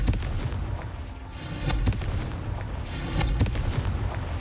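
Confringo fire spell from Hogwarts Legacy going off as a pair of heavy, booming blasts with crackling impacts, loud and close over a dense rumbling battle din, no voices.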